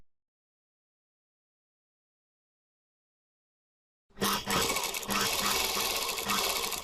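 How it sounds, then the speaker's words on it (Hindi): A sewing machine stitching a lehenga belt starts abruptly after a long silence and runs steadily and loudly to the end. "इस पिन को यहाँ से निकालते जाएं और सिलाई लगाते जाएं"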